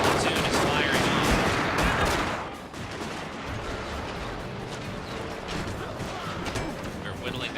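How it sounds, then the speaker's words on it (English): Platoon musket volleys in the video game Total War: Fall of the Samurai, dense crackling gunfire bursts, loud at first and then a continuous rattling fusillade under someone talking. "every single one of the platoon is firing on"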